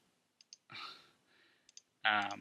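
Mouse clicks while working with the pen tool in Adobe After Effects, several small sharp clicks scattered between brief rustling and tonal sounds, close and fairly quiet.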